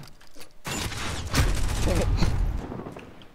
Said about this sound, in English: I'm getting shot from through the wall.